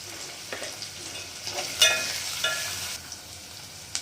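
Whole spices with turmeric and coriander leaves frying in a pan for tomato rice, giving a faint continuous sizzle with light stirring clicks and a few louder scrapes, no voices.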